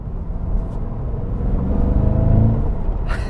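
A Cadillac CT5-V Blackwing accelerates hard in second gear, its engine a deep loud rumbling roar that builds steadily from inside the cabin, with a brief rustle at the end.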